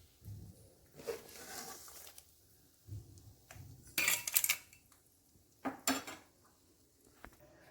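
A metal spoon clinks and scrapes against a pan while a temple-style Melukote puliyogare mix is transferred into a bowl. Several sharp, close scrapes and clatters come in bursts over a few seconds, with quiet gaps between them.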